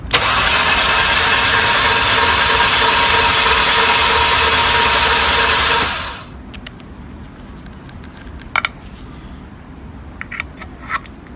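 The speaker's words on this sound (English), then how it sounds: "Mercedes wants us to crank the engine for 5 seconds to eliminate any leftover compression in the cylinders" A Mercedes 272 engine cranks steadily on the starter for about six seconds during a compression test, loud and close, then stops, leaving quiet with a few small clicks.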